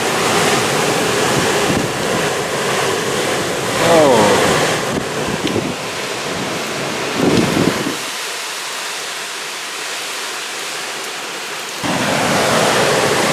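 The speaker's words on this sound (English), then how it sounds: "rain is just blowing sideways like that" Hurricane Sally's wind and sideways-blowing rain roar loudly and continuously, a dense hiss of rain and gusts with surf-like wash, briefly dropping to a quieter lull before surging back; a voice exclaims once.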